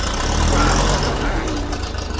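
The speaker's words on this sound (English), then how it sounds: "Alright, ignition's on. Let's give her a bit of choke. See if she goes." An old engine cold-starting with the choke pulled out: a steady, loud low rumble of cranking or rough idling fills the whole stretch, with a voice briefly heard over it.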